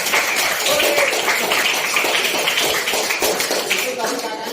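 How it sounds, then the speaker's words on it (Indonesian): Clapping from a school audience at a junior high in Merauke, dense, uneven hand claps with faint voices mixed in, fairly close and sustained for a few seconds. "Ya, tepuk tangan. Berikan."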